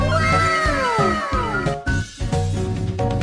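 Several dressed-up cats at a cat meet-up meow loudly and close by, with drawn-out, overlapping meows and whining caterwauls over a busy indoor crowd.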